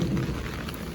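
Steady rain falling on a rainy day, a dense, continuous hiss of drops close by with no pauses.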